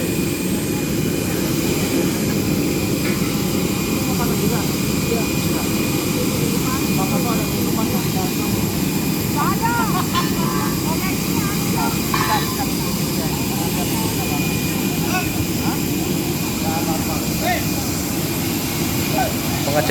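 A cargo jet at an airport runs with a steady, loud broadband engine roar that fills the whole stretch, with voices talking faintly underneath.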